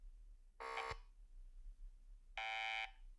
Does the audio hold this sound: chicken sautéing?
no